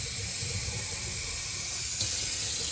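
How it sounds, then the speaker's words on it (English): Warm water poured into a jar holding a bicycle chain being rinsed of chain stripper, a steady close hiss of running liquid with a small clink near the end. "So now I'm adding some warm water."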